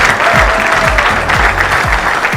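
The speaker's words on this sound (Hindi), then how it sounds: "इसके लिए सभी के लिए ताली बनती है यार" Loud, dense applause from an audience at a felicitation ceremony for the Tokyo 2020 Olympic medal winners, steady and sustained throughout, with occasional low thumps beneath it.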